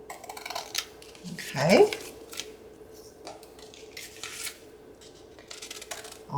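Scissors trimming the edges of a paper wallet envelope for a junk journal, giving a short burst of snipping and rustling near the middle, with a brief spoken word and faint handling sounds around it.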